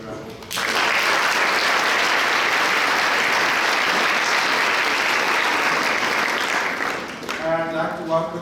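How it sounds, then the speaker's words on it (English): An audience at an opera gala applauds the board of governors, with loud sustained clapping swelling in after a brief lead-in and tapering off near the end as a voice begins speaking. "we really need to give them a round of applause"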